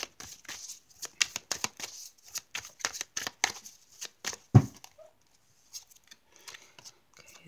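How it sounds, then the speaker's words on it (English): Rapid riffling and flicking of tarot cards, a burst of crisp shuffles followed by a soft thump, then a few scattered quieter card sounds. "I'm just going to go ahead and shuffle the cards for the energies for today."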